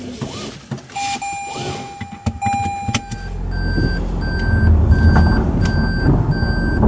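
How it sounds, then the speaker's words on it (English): A 2016 Toyota Prius's reverse warning chimes in regular, evenly spaced beeps over engine and road noise while driving, with a few clicks and thumps early on. "you can hear that beeping, which means I never got that shut off through the dealer"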